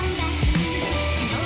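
Onion rings deep-frying in hot oil, a busy continuous sizzle and bubbling, close by, with a brief clatter partway through.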